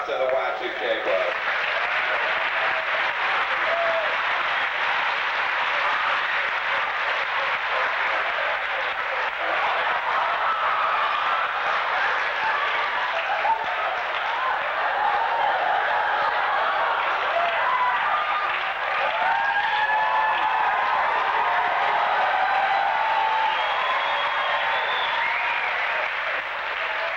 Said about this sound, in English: Let's give a big round of applause to the Y2K bug.